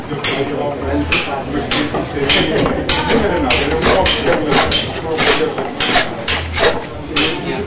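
A carving tool scrapes out the hollow of a curved wooden piece in a run of rough, rasping strokes and scratches. A voice speaks over the work.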